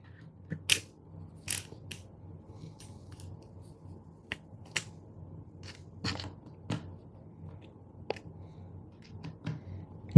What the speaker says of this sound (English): And again, I'm just lightly tightening them.